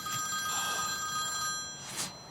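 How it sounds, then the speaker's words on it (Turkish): A telephone ringing with a bright electronic trill, two short ring bursts close by against a faint background hum, no talking. "Telefon çalıyor."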